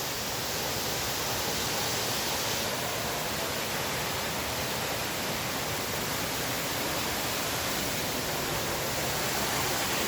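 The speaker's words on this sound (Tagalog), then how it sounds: "Yun na ang Inambakan Falls." Inambakan Falls in Moalboal, Cebu pours as a steady, dense broadband roar of falling water, constant and unbroken throughout with no voices.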